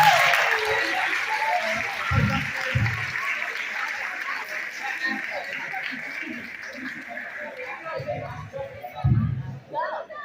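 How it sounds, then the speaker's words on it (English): Continuous applause from an audience at a school moving-on awards ceremony, a soft, even wash of many hands clapping at a moderate distance, with occasional low thumps and faint chatter mixed in. "let's give him a round of applause"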